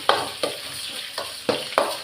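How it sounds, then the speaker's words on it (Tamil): Onion and garlic fry in hot oil for a Tamil drumstick-leaf kulambu, a constant close sizzle broken by five sharp stirring scrapes. "நல்லா வதங்கட்டும்."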